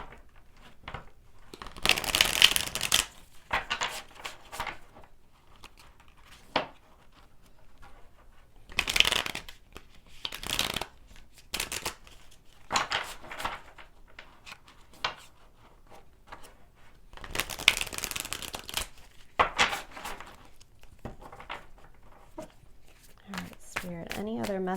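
A Light Seers Tarot deck is shuffled in repeated bursts of riffling, crisp papery card flutters close by, with a person talking softly between them.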